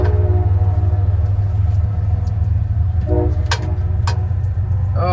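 A train rumbles steadily past a street crossing, a loud low drone throughout, with brief bright metallic ringing from the crossing bells and squeals near the end.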